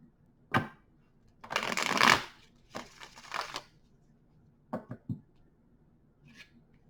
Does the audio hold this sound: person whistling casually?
no